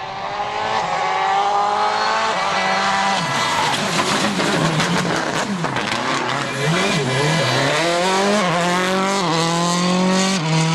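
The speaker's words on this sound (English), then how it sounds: "Dani Sordo is suffering engine problems in stage 6" A Citroën rally car on a 2007 WRC Germany special stage revs hard through repeated gear changes, its engine note climbing and dropping close by, with brief tire squeal and no voices.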